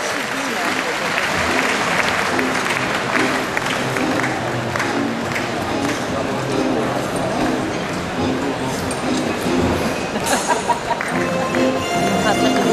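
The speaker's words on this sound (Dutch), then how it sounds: "En als u gepast klapt" An indoor audience at a horse stallion competition claps continuously in a dense, sustained round of applause, with an announcer speaking over it and faint hoof clatter near the end.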